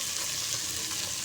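Onions, tomatoes, green chilies, garlic and ginger fry with round gourd in hot ghee, giving a steady, close, dense sizzle that hisses evenly throughout with no talking.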